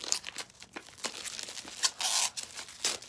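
A deck of Kyle Gray's Angel Prayers oracle cards is unwrapped, with close crinkling plastic film and short tearing bursts, quiet and irregular, with no talking.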